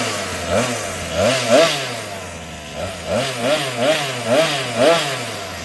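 Loud, close, buzzing two-stroke whine from the 47cc gas engine of a Rovan XLT monster RC truck being broken in, revving up and down in repeated rising and falling pulses, with no voices over it.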